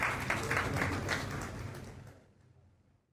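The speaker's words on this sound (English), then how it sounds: "A round of applause for us." Faint applause from the audience at an American Chemical Society chemistry symposium, a soft wash of many hands that tapers off and fades to near silence within a few seconds.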